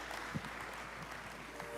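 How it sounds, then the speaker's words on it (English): Audience applause closing a panel talk on gaming technology, a steady wash of clapping at moderate distance with no voices over it. "Let's give them a round of applause."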